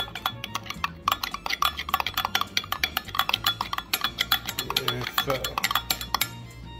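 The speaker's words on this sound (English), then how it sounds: "We got butter already in place, more garlic paste. Yes, sir. Go ahead and get this a nice little stir." Butter and garlic paste being stirred in a pan while making a meatball sub: rapid, repeated clinks and scrapes of a utensil against the pan, fairly quiet and close, with a low background hum.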